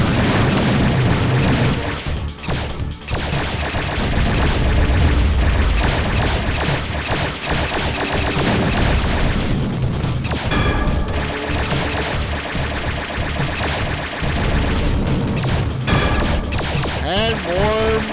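Missile explosions in the game Terminal Velocity, heard as repeated heavy booms and crashes over a loud, continuous engine roar, with a few sharper bursts and a voice talking now and then.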